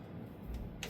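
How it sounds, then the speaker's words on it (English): Two faint, sharp clicks from a torque wrench tightening the rear Dana 44 axle on a 1997 Jeep Wrangler, spaced apart over a low hum of shop noise. "Give it a go until we get a click."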